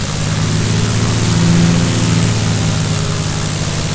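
A Cessna 172's propeller engine drones steadily while taxiing at a small airport, its low hum swelling slightly as the throttle opens. Close and constant, with no voices.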